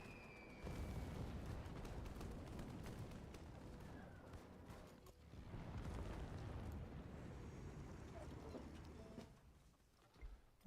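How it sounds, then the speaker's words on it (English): Bombs explode in a Civilization 7 multiplayer match, a rumbling barrage of blasts with a sharp whistle at the start, building, fading briefly, then swelling again before trailing off. "Some bombs."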